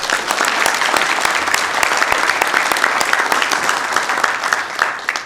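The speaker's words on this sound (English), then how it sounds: "please give Mr. Phil Oates a round of applause as well" Sustained applause from attendees at a Sacramento city council meeting, dense steady clapping for Phil Oates that stays loud throughout without any voices over it.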